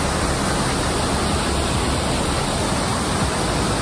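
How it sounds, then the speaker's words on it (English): A cascade waterfall in the Snowdonia mountains, a constant broad rushing roar of falling water heard close and loud, steady with no pauses and no voices. "Beautiful cascade waterfall."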